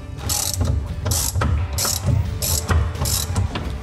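A ratchet loosens a screw in a series of about five quick bursts of close, crisp clicking, with no one talking.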